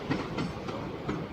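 A Class 376 electric train rumbles past close by as it arrives at Lewisham station, with rhythmic clattering of wheels over rail joints and a low mechanical drone.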